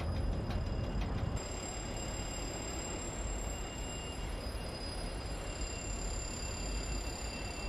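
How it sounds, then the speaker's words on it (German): Level crossing in Train Simulator Classic rattling as the train passes, a continuous clattering rumble with a louder burst in the first second and steady rail noise after. "das ist der Bahnübergang, der hier so scheppert."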